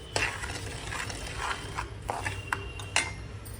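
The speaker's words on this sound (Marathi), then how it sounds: "आता ह्याच्यामध्ये आपण भगर टाकूया आणि लालसर अशी भाजायची आहे आपल्याला" Barnyard millet (bhagar) roasting dry in a pan while a spoon stirs and scrapes it, producing soft repeated scraping strokes and light clinks over a low steady background.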